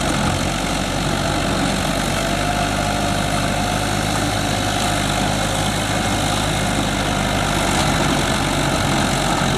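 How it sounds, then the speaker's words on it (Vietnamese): A used agricultural machine's engine idling smoothly, a steady loud low drone with an even mechanical hum that holds constant throughout, close by and with no voices. "Máy này thấy chạy 3 vụ rồi, thấy cũng khá là đẹp, khá là êm."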